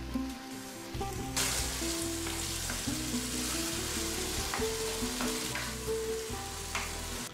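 Vegetables and a ready-to-eat meat product sizzle steadily as they heat in a pan, a continuous close frying hiss with occasional stirring scrapes and no talk.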